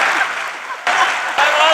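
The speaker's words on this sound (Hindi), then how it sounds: "तालियां" Audience applause at a Haryanvi poetry recital, loud close clapping from a crowd that breaks off and surges again in short bursts.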